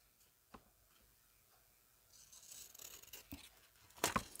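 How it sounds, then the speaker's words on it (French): Pinking shears snip through paper for a junk journal label, giving a few soft, close crisp cuts that build into a brief crunchy burst near the end, with no talking. "Donc là, je vais découper avec mes ciseaux crantés."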